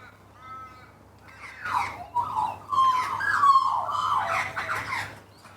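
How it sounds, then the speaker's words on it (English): Ravens caw outdoors in a rough, overlapping series of harsh calls, starting faintly and then growing louder and more insistent for several seconds with no talking. "We call them crows, but they're actually ravens, I heard."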